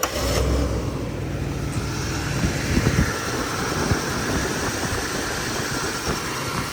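Car engine cranking and catching, then idling with a steady low rumble, heard close with outdoor noise around it and no voices; the car has a history of starter trouble.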